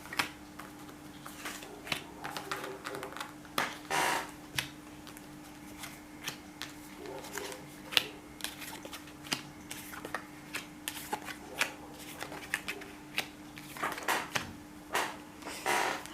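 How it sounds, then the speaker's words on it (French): A tarot deck is cut and shuffled by hand in quiet, close, irregular bursts of soft riffles, slaps and taps spread across the whole stretch. "Je fais ma coupe et je vais garder ce paquet-là."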